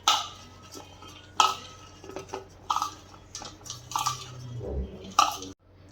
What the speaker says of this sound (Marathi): व्यवस्थित मिक्स करून घ्यायचे.